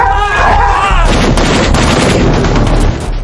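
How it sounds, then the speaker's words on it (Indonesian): Gunfire erupts from a neighbouring building in a war zone, loud booming shots and rapid bursts merging into a dense, rumbling barrage that fills the moment. "Lee mendengar suara tembakan dari gedung sebelah"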